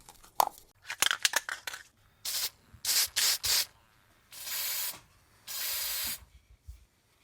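Several short rattles and scrapes, then a series of loud spray-can bursts of flat black paint hissing close by onto a 1/24 scale model Ford Falcon Futura body, each lasting about a second, with silence between them.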